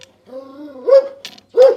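Dog barking loudly at close range in a Ukrainian village household, angry at being held back from whoever it is barking at; a low growling lead-in followed by two sharp, forceful barks.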